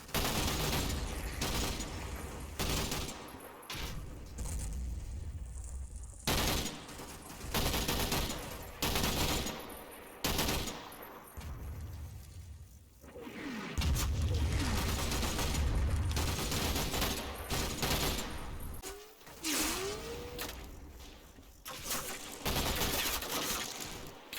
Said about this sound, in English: Vickers teams continue to lay down suppressive fire, but they are coming under sporadic mortar fire.